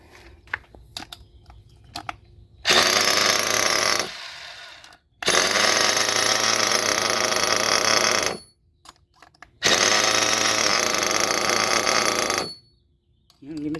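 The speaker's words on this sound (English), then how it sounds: "fire this thing up. I want to hear this thing." A Made-in-Italy Worx engine in a modded B5 RC car fires up. It gives three long, loud, raspy two-stroke runs of about three to four seconds each, separated by short pauses. Faint handling noises are heard between runs.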